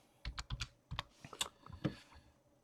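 Quiet typing on a computer keyboard, a short burst of about a dozen soft, uneven key clicks close by, with no talk.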